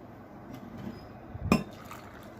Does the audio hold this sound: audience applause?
no